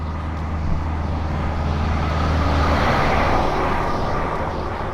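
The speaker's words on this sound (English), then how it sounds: "We'll just think of this traffic as some ASMR" Steady road traffic roars continuously from nearby, a dense low rumble with no breaks and no voices.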